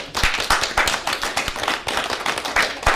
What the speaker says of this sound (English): Can we clap our hands really loud?